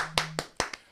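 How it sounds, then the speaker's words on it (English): A few sharp hand claps, close and distinct, spaced irregularly through a short moment with no talking. "Let's clap."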